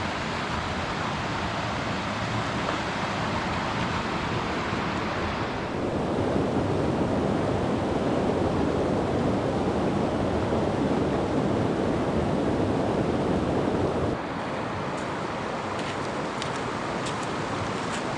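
A steep creek in Fiordland rushes steadily, a broad continuous wash of flowing water with wind buffeting the microphone, growing louder in the middle stretch as it is approached, with no talk.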